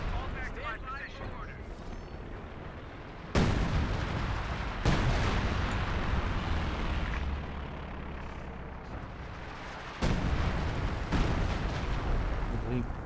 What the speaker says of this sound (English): 105 millimeter inbound